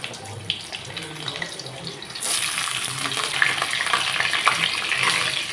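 Potatoes hit hot mustard oil with nigella seeds in a pan, bursting into a loud, sustained sizzle that continues evenly after a quieter start.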